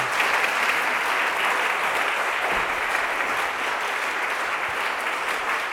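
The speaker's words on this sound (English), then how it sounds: "let's welcome him to the podium with another round of applause" Sustained, dense applause from a seated audience welcomes a speaker to the podium at a workplace diversity talk, steady and even for several seconds with no voices over it.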